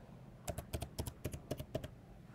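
Password being typed on a Mac computer keyboard while creating a new user account in macOS Ventura: a quick, even run of about a dozen close, crisp key clicks in small pairs.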